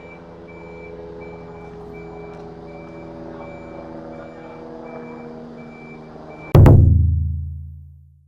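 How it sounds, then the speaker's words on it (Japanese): A large truck idles nearby with a steady reversing beep chirping over its rumble, then a loud sudden thud or air-brake blast near the end that fades out over about two seconds. "すごいトラック来たな"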